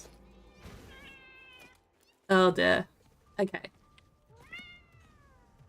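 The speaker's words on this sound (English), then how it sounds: "Do you hear that meowing?" A cat meows repeatedly in a video game, a few clear, rising and falling cries, one much louder burst in the middle, with a person speaking briefly between them.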